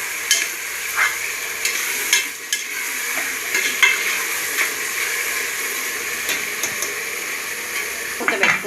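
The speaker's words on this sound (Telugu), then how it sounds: "దీంట్లో సాల్ట్ వేస్తున్నాను ఉల్లిపాయ మగ్గడానికి." Onions sizzle steadily in a hot pan with salt added, while a utensil scrapes and stirs through them in scattered knocks and clicks over the constant frying hiss.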